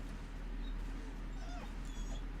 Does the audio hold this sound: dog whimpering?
yes